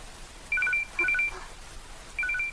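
An electronic phone ringtone plays in three short bursts of high, warbling two-tone beeps, separated by pauses, clear against a quiet background.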